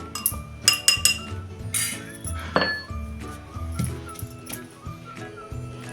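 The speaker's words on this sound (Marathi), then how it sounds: "आणि हे आता जाडसर ठेचून घेऊया" Ingredients for thecha, a coarse chili relish, being crushed with a vegetable dish, heard as irregular hard knocks and clinks, some sharp and bright, in an uneven pounding rhythm close by.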